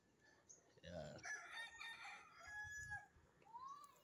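Faint rooster crowing in an outdoor rural setting near Tagaytay, heard at a distance with a few soft background noises and murmuring.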